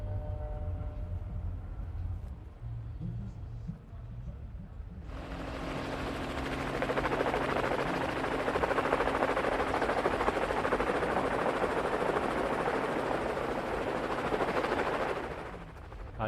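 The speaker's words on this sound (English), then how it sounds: "We can hear the helicopter up ahead there." Helicopter over the Absa Cape Epic mountain bike race, a low rotor thump under engine hum that suddenly swells into a loud, broad, rushing roar overhead and holds for about ten seconds before easing.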